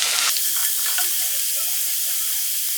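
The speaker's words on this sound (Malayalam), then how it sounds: "ഇഞ്ചിയും വെളുത്തുള്ളി ഇട്ടിട്ട് നന്നായിട്ട് ഒന്ന് അതിൻ്റെ പച്ചമണം പോകുന്നോളം വരെ ഒന്ന് വഴറ്റിയെടുക്കണം കേട്ടോ" Ginger and garlic sautéing in a pan, a loud, close, continuous sizzle with a few soft stirring knocks, heard alone.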